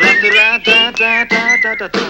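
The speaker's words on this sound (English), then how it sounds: "Come on, everybody, and whistle this tune right now." A live audience whistles a melody together in sustained, sliding notes, loud and close, with brief pauses between phrases.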